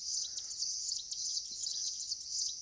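Bird calls and cricket chirps outdoors in a remote mountain village in Almora, Uttarakhand, a dense high trilling chorus that pulses steadily, moderately distant and fairly quiet.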